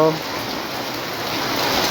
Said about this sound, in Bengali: প্রচণ্ড বৃষ্টি হচ্ছে আমাদের কুমিল্লা